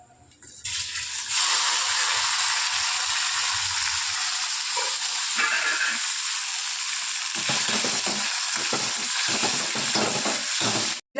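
Mustard seeds and spices fry loudly in hot oil, a steady close sizzle that jumps up after a second and holds, with crackling pops and stirring scrapes toward the end.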